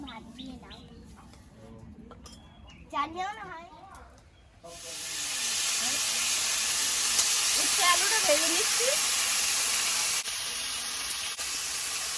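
Raw potato slices frying in a pan in a home kitchen give a steady, loud sizzling hiss that starts abruptly and continues, with a voice heard faintly over the frying and some talk before it begins.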